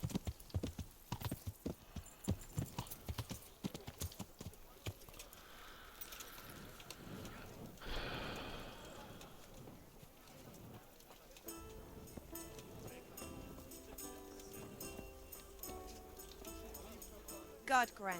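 Hoofbeats from a horse in the game Kingdom Come: Deliverance clop in a quick, distinct rhythm at first, then grow softer beneath a low background bed of game sound, all fairly faint.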